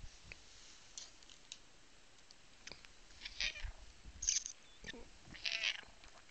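A house cat gives a few short, faint meows scattered between quiet clicks and light handling noises in a calm indoor room.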